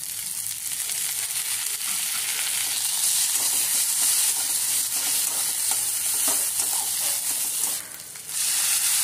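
Chopped onion fries in hot oil in a pan, giving a steady, bright, close sizzle with scraping stirs throughout and a brief dip near the end.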